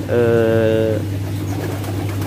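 A prize-winning contest pigeon gives a close, clear coo lasting about a second, followed by low background noise.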